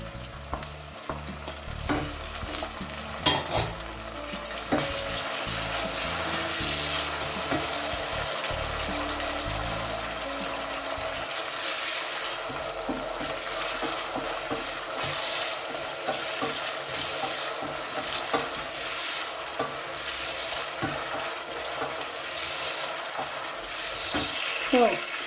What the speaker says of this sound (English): Let it fry for a while, after which you add your tomatoes.